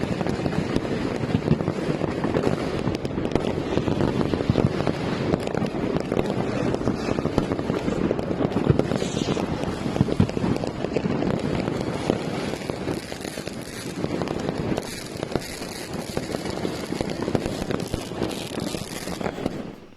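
New Year's Eve fireworks in Amsterdam, Netherlands, sounding as a dense, continuous barrage of crackling bursts and booms that stays loud and steady throughout, with no voices.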